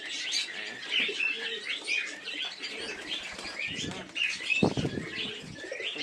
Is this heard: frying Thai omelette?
no